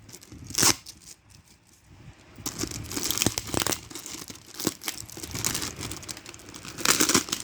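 A taped-up package being opened, with bursts of crinkling and tearing of tape and packing material that come in irregular waves, loudest near the start and the end.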